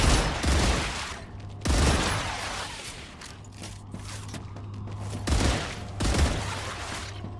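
Gunfire in the sci-fi video game StarRupture comes in several loud, sharp bursts separated by short pauses, over a low steady hum from the game scene.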